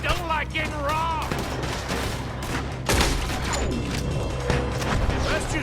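Shootout gunfire in Red Dead Redemption 2, dense bursts of shots and impacts mixed with shouting voices and background music, one sharper loud crack standing out near the middle.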